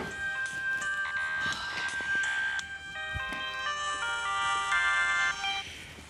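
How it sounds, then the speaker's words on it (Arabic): A mobile phone rings indoors with a melodic electronic ringtone, a bright repeating tune that plays loud and close for several seconds with no talking over it. "تليفوني بيرن"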